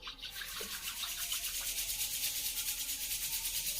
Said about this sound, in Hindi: धीरे धीरे अपने दोनों हाथों को रब करते हुए